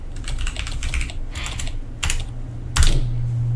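Clicky keystrokes on a computer keyboard, typed in three or four short bursts with brief pauses, close and fairly loud, ending in a heavier key press.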